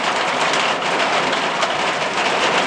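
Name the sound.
rain falling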